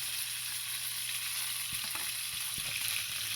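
Chicken fries in a pan with a steady, close hiss of sizzling oil and a few faint knocks and stirs, with no talking over it.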